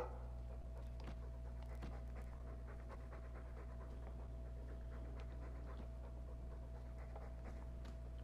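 Dog companion panting in Dragon Age 2, a steady rhythmic huffing that runs through the whole stretch over a constant low game hum, close and moderately loud.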